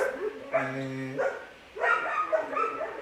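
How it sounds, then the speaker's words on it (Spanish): Pet dogs bark at home in two bursts of harsh, harmonic yelps, one short and one longer after a brief pause, fairly close and loud. "mis perros están ladrando"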